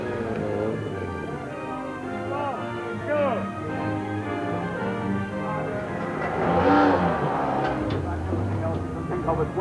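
Small Mini cars racing past with buzzing, revving engines rising and falling in pitch, a voice talking over the commotion.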